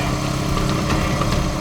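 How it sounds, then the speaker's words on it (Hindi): A motorcycle engine runs steadily at close range with a continuous mid-pitched drone, heard alone with no speech. "ये कौन जा रहा बाइक पे?"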